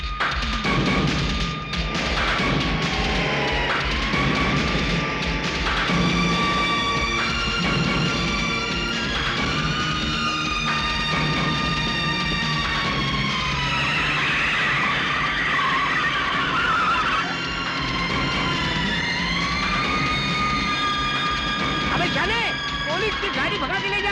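During a chase in a Hindi movie, a car speeds away with long squealing tyre skids and a revving engine under dramatic music, loud and sustained for over twenty seconds.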